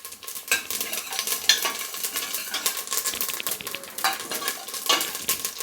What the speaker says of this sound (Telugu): దీంట్లోనే కొద్దిగా జీలకర్ర వాడేస్తున్నా.